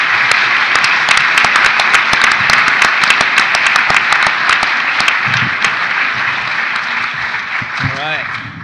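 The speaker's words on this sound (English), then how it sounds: "let's just give everyone a round of applause up here on the panel" An audience at an entrepreneur panel event applauds the panelists in a loud, continuous round of clapping with sharp individual claps standing out, while a voice speaks briefly near the end as it fades.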